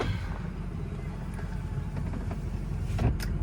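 A 2006 Ford F250 pickup with the 6.0 Powerstroke diesel, all original and untouched, drives along with a steady, loud low rumble and road noise throughout, plus a couple of brief knocks near the end.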